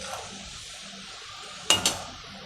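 Crispy fried boondi rattling against a metal pan or bowl as it is stirred, two sharp clinking bursts close by after a stretch of quiet background hiss.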